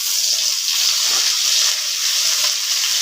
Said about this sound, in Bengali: এদিকে মাছটাকে ভালো করে ভেজে নেবো লাল লাল করে